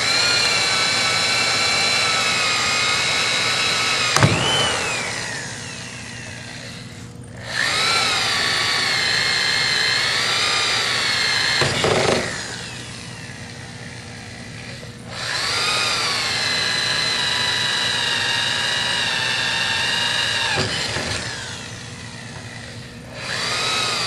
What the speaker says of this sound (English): all 5 holes are drilled